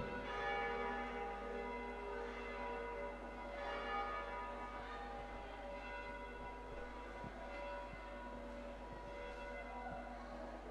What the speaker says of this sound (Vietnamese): Xin chúng ta dừng chuông.